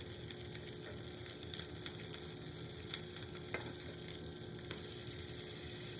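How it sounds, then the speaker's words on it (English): Green beans sautéing in melted butter in a pan, a steady close crackling sizzle with occasional sharper pops, faint and continuous throughout. "I'm going to throw my green beans right in the pan like this"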